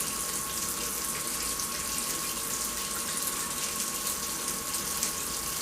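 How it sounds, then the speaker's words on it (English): An aggressive brush scrubs an aluminum model train car's grab irons and details in a compound bath, a steady wet swishing with water sloshing throughout, close and continuous. "now we'll take the more aggressive brush and scrub around to add on details"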